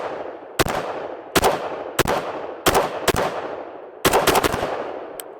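Rifle shots from a Sig SG 550 or Beretta AR70, a soft-shooting rifle: about nine sharp cracks, spaced and then a quicker cluster near the end, each ringing out in a long decaying echo, loud and close with no talking.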